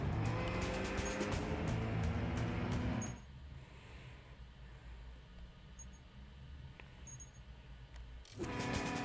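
Car engine droning steadily through London streets in Watch Dogs: Legion, loud for about three seconds, then dropping to a quieter muffled rumble with faint clicks before surging loud again near the end.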